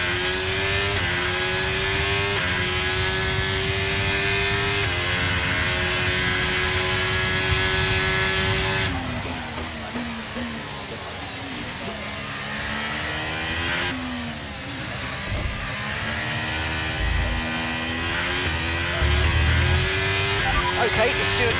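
A Ferrari Formula 1 car racing at the Mexico circuit in F1 23, a high, whining engine note that climbs and drops through gear shifts, loud and continuous beneath a race commentator's voice.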